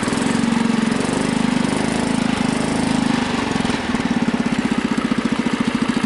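A Husky 600 engine running close and loud, a steady rough idle that shifts partway through into a faster, pulsing chug.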